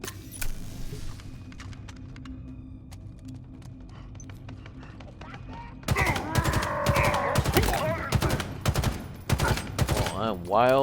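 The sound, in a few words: gunfire from shooting in video game Halo Infinite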